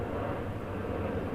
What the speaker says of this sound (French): je parle et il y a un avion qui passe